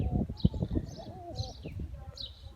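Soft, low pigeon coos repeat close by as birds eat rock salt near a coop, mixed with a few higher bird chirps and some background rustle.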